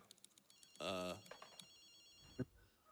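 A phone call ringing in the video game Ghostwire: Tokyo, a short bright electronic ring burst followed by faint clicks and soft talk in the background.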